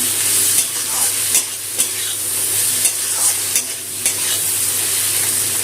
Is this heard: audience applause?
no